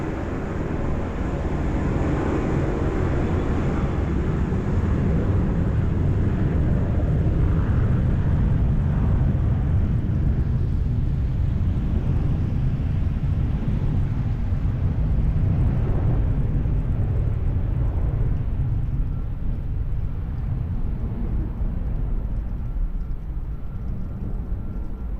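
A jet airliner rolling for takeoff at Lisbon Airport, a steady, loud, broadband engine roar that holds for the whole stretch without pause or obvious change.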